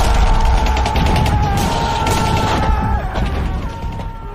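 Wartime gunfire from a dramatized war scene, with dense crackling bursts and booming impacts over a rumbling chaotic background, loud and continuous throughout and fading slightly toward the end.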